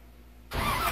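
A Holley-carbureted car engine, choke pumped twice, cranks and catches after a half second of near silence, then runs loud and rough.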